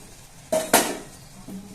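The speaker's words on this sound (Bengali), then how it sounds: "আমি ঢাকনাটা খুলে দেখছি কত দূর হয়েছে" Two quick metallic clanks sound close by as a lid comes off a cooking pot on a gas stove, followed by a faint softer scrape.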